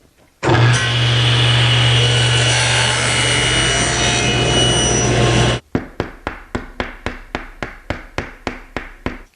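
A saw rips through wood guided by an Incra miter fence while cutting 2.5-inch hinges: a loud, steady whining cut of about five seconds, followed by a run of evenly spaced sharp taps.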